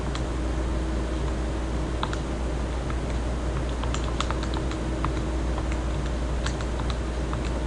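Soft, irregular button clicks come from a graphing calculator as an equation is keyed in, sparse taps scattered over a steady background hum with no speech.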